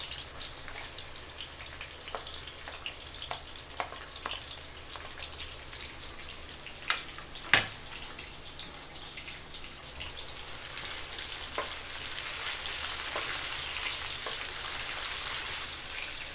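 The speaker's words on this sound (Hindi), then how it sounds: "तेल हमारा गरम हो गया। अब हम इसमें कटा हुआ लहसुन डालेंगे, कटा हुआ प्याज डालेंगे" Chopped garlic and onion hit hot oil for vegetable Schezwan fried rice, giving a continuous crackling sizzle with scattered pops and one sharp clatter midway, close up and without speech.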